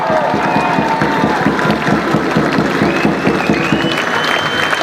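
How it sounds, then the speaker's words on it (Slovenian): A crowd of townspeople in Slovenj Gradec claps steadily and cheers at a homecoming reception for Janja Garnbret, loud and continuous throughout, with voices shouting over the dense applause. "Še enkrat, velik aplavz, velik vzklik."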